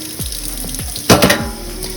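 Sweet potatoes rinsed under a running tap, with a steady close stream of water, a few soft bumps as they are turned, and a brief louder splash midway.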